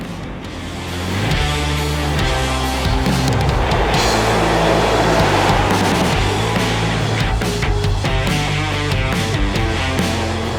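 A car rolls at 70 on Yokohama GO18 tyres during a lane change test, giving a continuous loud roar of road and engine noise with shifting tonal whine throughout.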